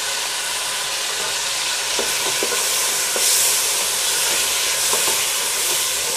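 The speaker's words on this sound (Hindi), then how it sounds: "इसमें अच्छी तरह इसके साथ हम चिकन को थोड़ा भूनेंगे" Chicken frying with ginger and garlic in a pot for green masala pulao gives off a loud, steady sizzle and hiss, with a few faint stirring clicks underneath.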